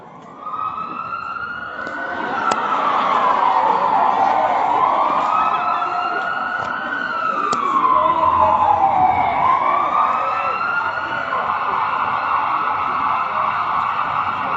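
An ambulance siren wails loudly and continuously with rising and falling tones, sweeping up and down near the listener for the whole stretch, with no voices over it.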